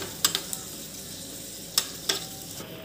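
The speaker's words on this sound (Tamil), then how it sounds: "இந்த மாதிரி நீங்கள் ரெட்டிஷாக வறுத்துக்கோங்க." Ingredients for payasam roast in a pan until reddish, a faint, steady sizzle marked by a handful of sharp spoon clicks against the pan.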